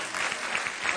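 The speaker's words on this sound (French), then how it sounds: "On applaudit la personne." Applause from a live outdoor audience at the Champ de Mars, a dense, loud burst of clapping filling a brief moment with no voices.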